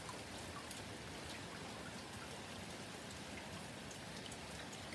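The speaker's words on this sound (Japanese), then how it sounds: "この程度の雨風である。" Light rain with gusting wind during a typhoon in mid-August, a steady, dense hiss of falling drops that holds at an even level throughout, with no voices.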